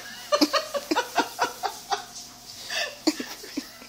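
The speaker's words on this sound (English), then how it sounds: "Oh, she's chirping." A small bird riding on a jogger gives a rapid series of short, bright chirps in quick succession, close by and fairly loud, with a brief pause before a few more calls.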